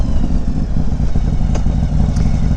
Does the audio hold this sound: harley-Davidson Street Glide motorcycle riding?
yes